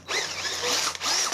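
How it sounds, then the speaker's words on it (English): A drill bores the start of a hole for a thread repair, a steady whirring power-tool whine running close and continuous with small shifts in pitch, no talk over it. "using the correct drill, is just start to drill in the hole"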